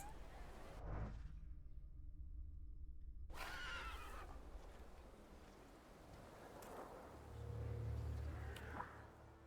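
A horse neighs in a video game, a sharp whinny near the start and then quieter whinnying among wind-like background noise and a low rumble.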